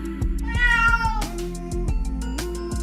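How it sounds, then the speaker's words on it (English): A cat meows clearly and loudly up close, giving several drawn-out, tonal cries in a row with no other sound around them. "Cat."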